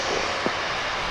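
Airliner starting its takeoff run at Dallas Fort Worth on runway 36 right, a continuous broad engine roar at moderate distance with a brief thump near the middle.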